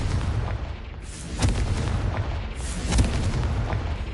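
Confringo fire spell in Hogwarts Legacy, loud booming blasts with crackling bursts over a continuous rumbling game backdrop, two distinct impacts standing out.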